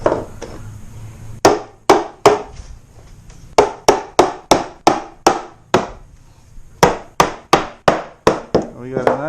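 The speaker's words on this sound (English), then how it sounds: "It's a pretty tight fit, so a little help from a hammer." A hammer knocks wooden ribs tightly into a raised garden bed frame, landing sharp, close thwacks: one early hit, then a run of evenly spaced blows after a pause, with no talk over them.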